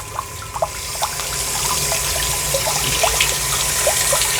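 Water gushes and splashes from the outlet of a BLDC solar-powered submersible pump running under strong pressure, a close, continuous spattering rush with scattered droplet hits and no one speaking.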